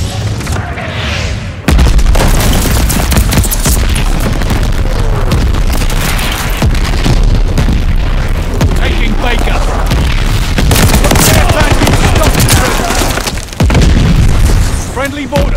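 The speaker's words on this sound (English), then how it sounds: "Your teammate called an airstrike." Airstrike explosions in a Call of Duty Vanguard Domination match, a near, loud, continuous barrage of heavy booms and rumbling blasts that begins abruptly and runs almost unbroken, with a brief dip near the end before it resumes.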